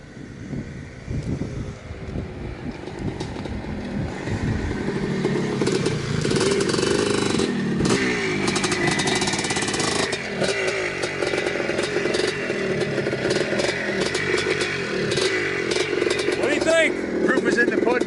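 A 1982 Maico MC250 vintage two-stroke motorcycle revs hard and close, its rasping exhaust note rising and falling continuously with wind buffeting the microphone and voices talking over it.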